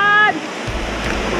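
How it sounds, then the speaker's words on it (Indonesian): A waterfall beside a rainy overland trail near Waerebo on Flores pours in a loud, steady broadband rush after a brief voice at the start. "Lewat waterfall, lewat waterfall."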